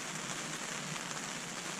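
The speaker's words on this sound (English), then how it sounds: "Hear the rain." Rain falls steadily in the Kgalagadi, a soft continuous hiss of drops pattering on surfaces, fairly faint and unbroken with no voices.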